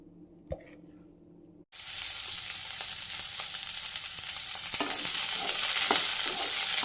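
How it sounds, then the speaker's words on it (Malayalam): After a brief quiet moment with a small knock, cauliflower for aloo gobi hits the pan and sautés with a sudden, continuous sizzle that builds slightly, with occasional stirring scrapes. "ആദ്യം തന്നെ നമ്മുടെ കോളിഫ്ലവർ ഇതിലേക്ക് ഇട്ട് കൊടുക്കാം. ഒന്ന് ചെറുതായിട്ടൊന്ന് വഴറ്റി മാറ്റാം."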